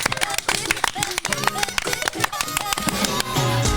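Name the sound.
audience applause for podcast guests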